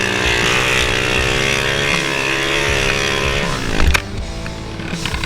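A pit bike engine on a ride, a loud close droning buzz with steady harmonics that shift in pitch as the rider changes speed, a brief louder surge near the end.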